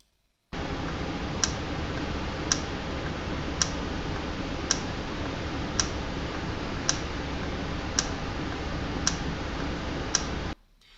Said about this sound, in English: This time the type of background noise is different, but the clicking sounds are very similar.